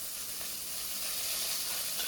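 Shallots, a large chopped onion and curry leaves sauté in hot oil for mutton boti kulambu, giving a steady, close hissing sizzle throughout.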